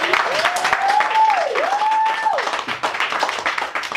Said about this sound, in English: One more time, a round of applause for Tag, everyone.